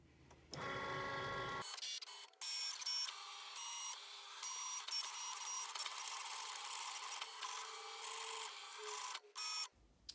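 A Cricut cutting machine running a card project with a pen, a close, fairly quiet whirring motor with repeated buzzing carriage movements broken by short pauses, no talk.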